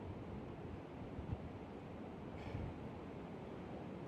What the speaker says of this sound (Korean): 파도는 더욱 거세지고 있습니다.